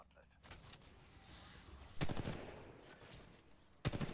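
Bursts of automatic gunfire in Titanfall 2 as different guns are tried out, sharp loud volleys near 2 and 4 seconds over a steady rumble, with voices talking in the background.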